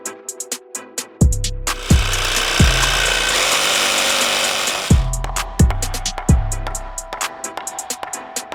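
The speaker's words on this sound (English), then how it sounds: "I've been sitting here for 2 to 3 hours whacking this diff with a hammer" A hammer whacks at a car differential bushing, delivering sharp heavy blows in bursts, with a stretch of harsher grinding or sawing-like tool noise between them, all close and loud with no talk.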